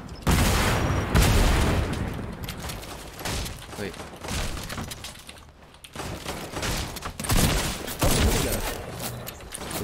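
Rapid bursts of gunfire fill a Fortnite Battle Royale match, dense and loud, with repeated shots and booms running almost without pause while a player speaks briefly over them.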